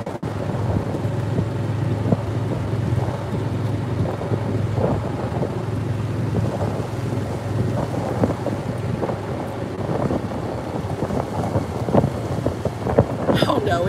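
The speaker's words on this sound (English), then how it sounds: "Oh no, it's raining." Rain falls during an open golf cart ride in The Villages, Florida, a dense steady hiss mixed with wind buffeting and motor rumble, continuous and close throughout.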